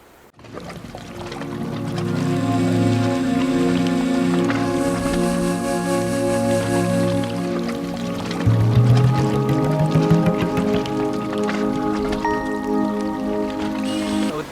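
Water pours down from small hills at Shikhar Fall in Dehradun, a loud, continuous rushing stream that holds steady throughout, with a brief surge near the end.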